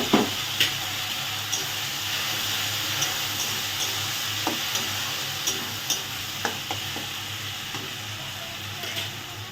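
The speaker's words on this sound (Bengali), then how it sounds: "এবারে মশলাটাকে ভালো করে ভেজে নেব" Ginger-garlic paste and spices fry steadily in hot oil for a Bengali dish, with a constant sizzle and regular scraping knocks of a spoon stirring the pan, close and continuous with no talking.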